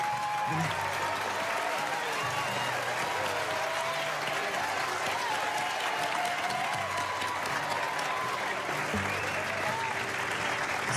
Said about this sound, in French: Un tonnerre d'applaudissements pour Zayn.